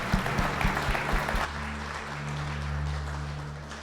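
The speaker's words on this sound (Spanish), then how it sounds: "Un aplauso fuerte para nuestro hermano." Church audience applauding for a speaker at a Spanish-language event, clapping with sustained organ-like tones underneath, the claps fading as the tones carry on.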